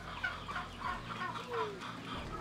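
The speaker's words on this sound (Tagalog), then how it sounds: "Pabo." Farm turkeys, kept alongside chickens and geese, gobble and call in short bursts with bird chatter close by, over a steady low hum.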